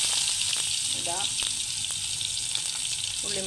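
Onion frying in hot oil with mustard and fenugreek seeds: a dense, continuous sizzle with a few light clicks and stirring scrapes, steady and close.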